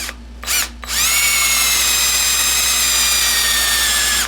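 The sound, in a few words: drilling with a brad point bit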